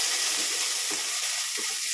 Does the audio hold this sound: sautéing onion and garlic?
yes